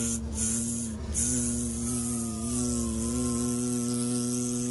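A voice imitates a continuous welding-like buzz, a steady nasal droning with rough texture held for several seconds, close and moderately quiet with no words spoken.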